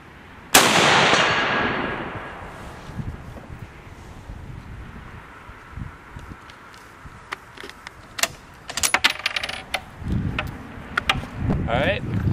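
A single loud Mosin Nagant rifle shot cracks outdoors at an AR500 steel target about 150 away, followed by a long fading rumble, wind noise and scattered small knocks and rustles.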